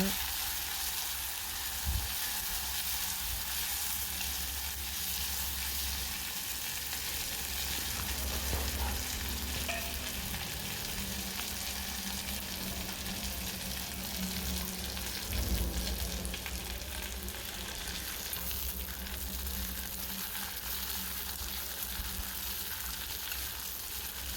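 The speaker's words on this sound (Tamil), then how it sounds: "கடுகு கடலைப்பருப்பு உளுந்தம்பருப்பு போட்டிருக்குதுங்க வெங்காயம் கருவேப்பிலை பெரிய வெங்காயம் தான் போட்டிருக்காங்க" Onions sizzle and fry in hot oil with mustard seeds, chana dal, urad dal and curry leaves, a steady crackling hiss throughout with occasional stirring scrapes, close up and with no talk.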